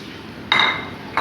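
Sliced brinjal slides into a pan of fried tomatoes and onions for baingan bharta, making one bright clattering splash of sizzle followed by a brief second hit, close and alone.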